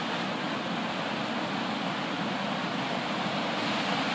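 Waterfall water pours in a steady, broadband rush, constant and fairly loud, with no breaks and no voices.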